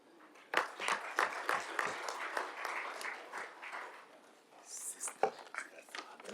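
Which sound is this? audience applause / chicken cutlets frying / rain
audience applause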